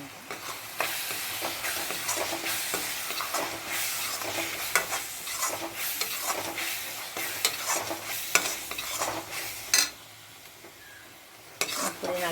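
Spices including turmeric, chili powder and garam masala are sautéed with mint and coriander for prawn biryani: continuous close oil sizzling with repeated scraping and stirring of a spoon against the pan, and occasional metallic knocks.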